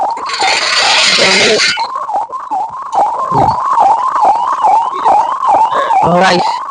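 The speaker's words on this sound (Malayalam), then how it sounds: "ആംബുലൻസ്" An ambulance siren wails loud and close, its rising and falling tone cycling repeatedly over several seconds with bursts of other noise near the start and end.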